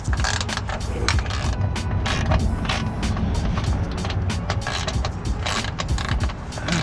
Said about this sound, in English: to take this off, you're gonna want an 18mm socket